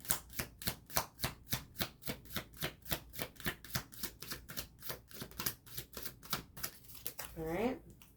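A deck of cards shuffled in a steady run of crisp riffling bursts, evenly paced, close and quiet, with a brief voice at the very end.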